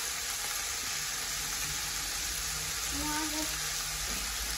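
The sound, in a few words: vegetables frying in a pan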